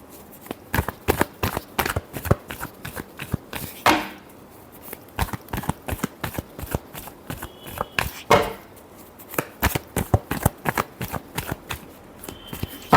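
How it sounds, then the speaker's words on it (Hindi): A deck of tarot cards is shuffled over and over, close and fairly loud, producing rapid crisp riffling clicks with brief slides between them and two short pauses. "last shuffle"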